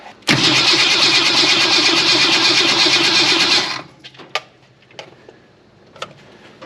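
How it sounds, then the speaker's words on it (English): An old Ford Falcon wagon engine, parked 38 years, cranks loudly and steadily for a few seconds with a rapid whirring churn, then cuts off, leaving a few faint clicks and knocks. "let's go ahead and turn it over, see if that carb holds anything"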